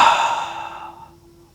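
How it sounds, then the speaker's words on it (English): A forceful open-mouth exhale during a yoga breathing exercise, one long breathy rush of air, loud at the start and gradually fading away, close to the microphone with no talking. "open the mouth and push the breath out"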